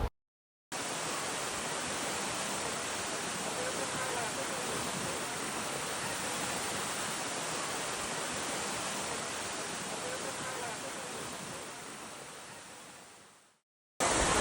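Water from a waterfall pours down during rappelling, a loud, steady broadband roar that fills the clip evenly before fading away at the end.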